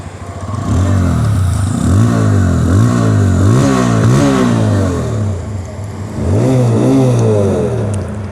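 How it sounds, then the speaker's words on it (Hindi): A TVS Apache RTR 160 or Bajaj Pulsar 150 motorcycle engine revs repeatedly close by, its exhaust note rising and falling in a steady series of throttle blips, loud with a deep rumble. "दोनों बाइकों की जो मतलब एग्जॉस्ट साउंड है वो सुन लेते हैं"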